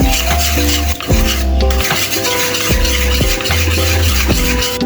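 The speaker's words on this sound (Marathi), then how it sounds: "आता आपण अशी फेटून घेऊया एकजीव करून घेऊया" Cooked moong and toor dal being whisked in a metal pot, repeated rhythmic scraping and clinking strokes, loud and close, with no talk.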